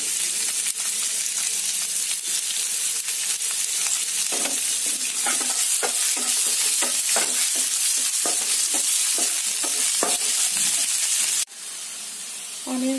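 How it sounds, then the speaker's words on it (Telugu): Onions fry in oil with cumin seeds in a pan, giving a loud, continuous hissing sizzle with frequent stirring scrapes and knocks throughout. The sizzle briefly drops lower near the end. "ఆనియన్స్ కూడా ఫ్రై అయిపోయాయి కదా"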